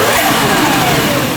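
A stock Toyota Chaser JZX100 engine revs loud and close, a steady mid-pitched drone filling the short burst with no pause.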